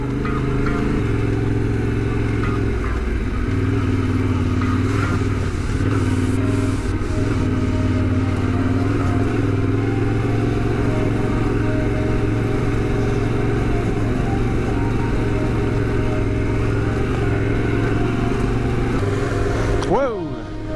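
An adventure motorcycle rides a slippery dirt trail during a Europe trail trip. Its engine drones loud and steady throughout, with wind noise and rider chatter mixed in.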